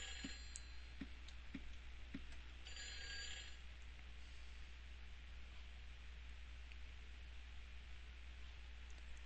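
Silent Hill 4 video game telephone ringing: a faint, brief burst of bell ringing early on, over a low constant drone, preceded by a few soft ticks.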